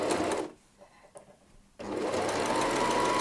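A home sewing machine stitches t-shirt fabric in loud, close, continuous bursts, pausing briefly for about a second of quiet handling before running steadily again.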